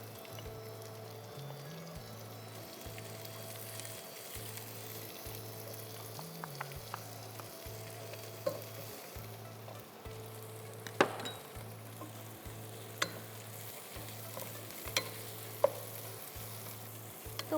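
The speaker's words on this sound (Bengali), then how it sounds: "এখন আমি দিচ্ছি কাঁচা পেঁয়াজ, একটু বেশি পরিমাণই দিব" Two cups of raw onions frying in a pan for beef rezala, with a steady sizzle and the intermittent scrape and clatter of a spoon stirring them, no talking.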